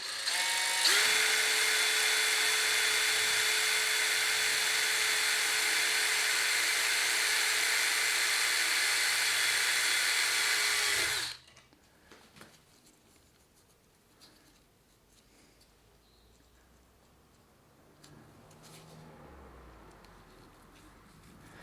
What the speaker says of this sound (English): drill a 3mm hole in the edge through